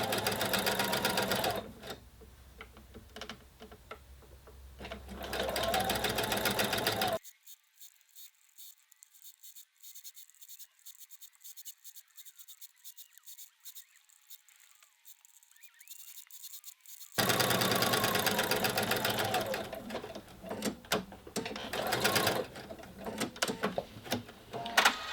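A sewing machine runs an understitch around the edge of a continuous placket, a steady, even whir of stitching held for about ten seconds between louder, busier passages before and after.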